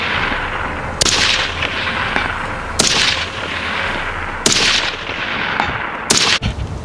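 Gunshots from an SPR designated marksman rifle at a shooting range: four sharp, loud reports spaced a second or more apart, each followed by a short rolling echo over steady outdoor background noise.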